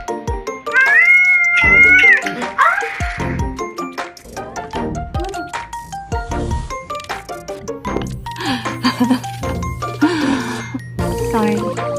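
A cat meows and caterwauls loudly and repeatedly at close range, drawn-out wavering cries mixed with chatter from people in the room and some light tinkling sounds.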